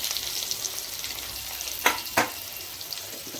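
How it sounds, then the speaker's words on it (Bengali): Potatoes frying in a pan of oil for chole paneer make a steady soft sizzle, broken by two brief louder scrapes of stirring near the middle; no voices. "আলুটা একটু ভাজি হয়ে গেলে তারপরে কাবলিগুলো দেব।"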